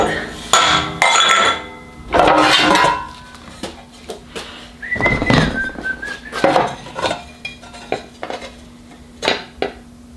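A folded aluminum sheet being chopped in a metal shear, with several sharp metallic clanks and clinks spread across the span, plus a sustained ringing whistle-like tone partway through, close and loud, with no talk.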